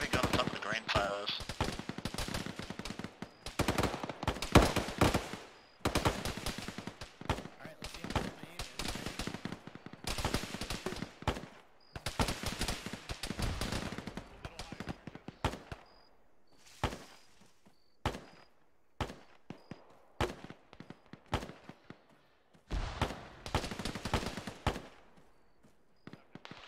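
A heavy gun fires in a military video game, in long, loud bursts of automatic fire broken by pauses, with shorter shots and distant cracks later on and voices talking now and then.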